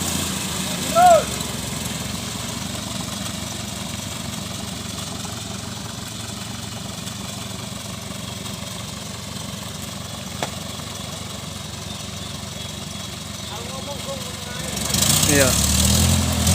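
A Daihatsu Taft Hiline truck engine drones steadily and close for a long stretch, then swells louder near the end, with voices briefly heard.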